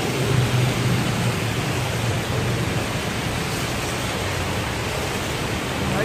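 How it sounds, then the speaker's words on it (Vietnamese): Heavy rain pouring down on a street in Saigon, Vietnam, a dense, steady, loud rushing hiss that fills the whole time without a break, with no talk. "Trời đang mưa rất là to."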